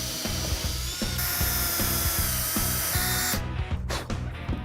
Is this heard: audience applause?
no